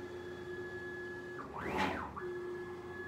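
A CNC laser machine running under Mach 3 drives its laser head back to the zero position: a faint, steady electrical hum broken by one brief rising-then-falling motor whine, with no talk.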